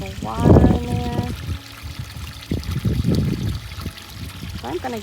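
Water is poured into a backyard turtle pond in a garden, a steady trickling splash heard close up while a person talks over it.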